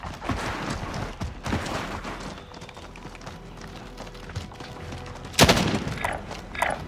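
Rapid gunfire from a shooter video game match, with bursts of shots throughout and a sharp, loud blast near the end followed by further scattered shots, no voices.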